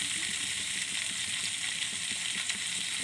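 Ginger and tomato curry frying in a pan, a steady loud sizzle with soft crackling that holds evenly from start to finish.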